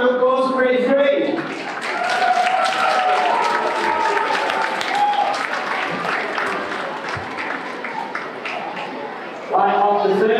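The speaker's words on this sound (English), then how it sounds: "big round of applause for E3" Sustained audience applause at an elementary school rock and roll music concert, loud and steady clapping from a crowd for most of the stretch, with brief musical or vocal sounds at the start and end.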